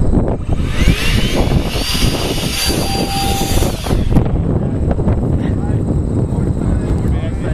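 The electric motor of a Great Planes Synapse RC model plane whines loudly at full throttle before a hand launch. A rising tone runs for about four seconds and then cuts off under outdoor noise and talk.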